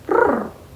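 A cat gives a single short, soft coo, a gentle purring trill up close that lasts under a second with no talking.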